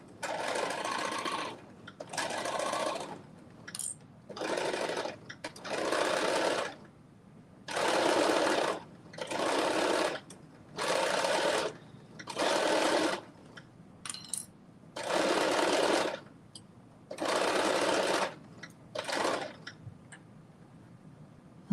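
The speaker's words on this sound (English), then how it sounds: "now I am stitching around the crotch of the shorts" A sewing machine stitches around the crotch of a pair of shorts in a series of about a dozen bursts, each a few seconds long, separated by short pauses, loud and close with no talking.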